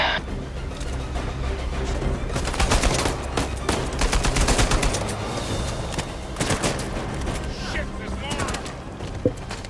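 Sustained covering gunfire from allied soldiers in Uncharted 4, rapid overlapping bursts of rifle and machine-gun shots crackling at mid distance for several seconds, with talk beneath the shooting.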